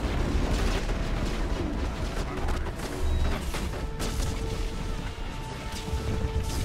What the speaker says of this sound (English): Stop firing at me, idiots.